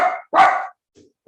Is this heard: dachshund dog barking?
yes